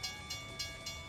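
Train rolling past a crossing in American Truck Simulator, a faint steady rumble with a regular clickety-clack of wheels over rail joints, about four beats in quick succession.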